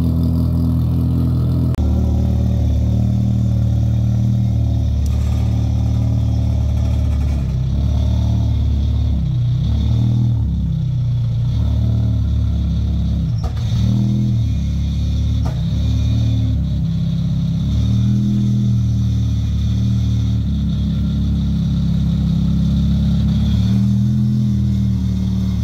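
A nitrous-prepped 400 hp car engine idles to warm up, a loud, steady low rumble with slight rises in revs and faint clatter running without a break, close by with no talk.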